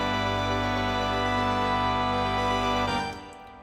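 A sustained orchestral chord from a recorded symphony, full strings and winds holding a rich, steady sonority for about three seconds before cutting off, heard alone.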